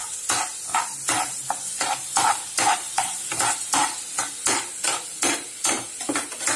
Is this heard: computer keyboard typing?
no